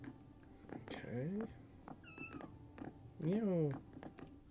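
Cat meowing in the video game Pentiment: two drawn-out, rising-and-falling meows about two seconds apart over a faint ambient background, with soft clicks and brief tones between them.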